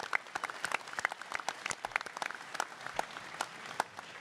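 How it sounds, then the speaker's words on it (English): Audience at a gun convention panel applauds for several seconds, a dense patter of many hands clapping at once, heard from mid-distance at moderate volume. "Let's give a big round of applause to everybody that's out there watching, sitting right here."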